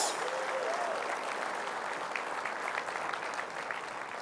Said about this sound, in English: let's have another huge round of applause for your 2020 IEC National Board of Directors